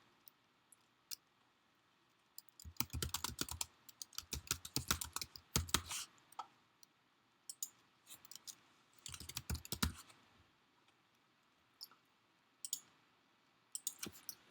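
Someone types a password on a computer keyboard, a quiet, close run of rapid key clicks in several bursts separated by pauses, with a few isolated taps toward the end.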